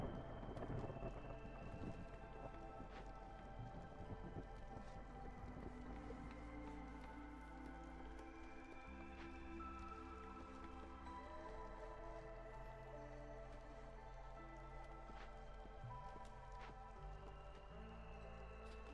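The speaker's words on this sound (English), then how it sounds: "Storm's coming." Storm weather in the video game Against the Storm brings a continuous wash of rain with low rumbling thunder, steady and fairly soft beneath a layered tonal game soundscape.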